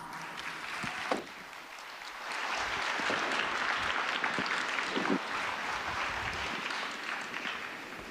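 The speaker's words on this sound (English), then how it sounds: "Let's give them a round of applause." Audience applause fills a large corporate tech-day hall for guests introduced on stage, a dense, sustained roar of clapping that swells after a second and holds steady to the end.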